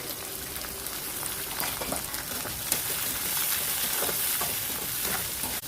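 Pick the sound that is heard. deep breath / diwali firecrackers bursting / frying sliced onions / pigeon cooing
frying sliced onions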